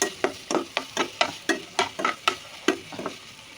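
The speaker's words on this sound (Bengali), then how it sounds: "তো আমি একটু নাড়াচাড়া করে নেবো।" Onions, scallions and carrots for fried rice stirred in a pan, a quick, steady series of spatula scrapes and clacks, close and clear with a light sizzle beneath and no voices.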